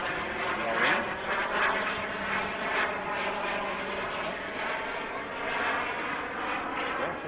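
A Hangar 9 Aermacchi MB-339 turbine RC jet flies overhead with a steady whooshing turbine roar that rises and falls gently as it passes at moderate distance, with no talking.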